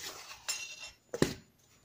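Dry ingredients are stirred together in a bowl. A few brief clinks and scrapes of a utensil against the bowl sound in quick bursts with quiet gaps between them, close by and with no talk.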